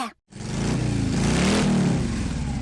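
A tractor engine revs up sharply after a brief silent gap, a loud, close mechanical roar that climbs and holds in pitch for about two seconds, with no voices.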